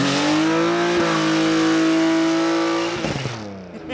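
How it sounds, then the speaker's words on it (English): A budget drift car revs hard in a burnout, a loud sustained engine drone holding steady near the microphone before the pitch shifts and fades near the end. "you reckon that's burn out?"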